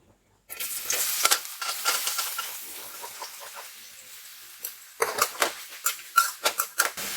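Ridge gourd sautéing in a pan while cooking chutney, with scraping, clinking stirs of a utensil against the pan in bursts and a soft sizzle beneath, close and fairly loud.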